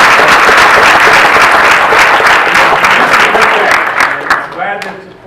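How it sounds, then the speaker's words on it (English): An audience at a county courthouse renaming ceremony breaks into loud, sustained applause, a dense wall of clapping that holds steady and then tapers off into a few scattered claps at the end. "So let's give the whole family a great round of applause."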